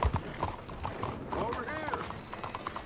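Steady clip-clop of horse hooves at a walking pace in Red Dead Redemption 2, with a brief whinny and faint background activity.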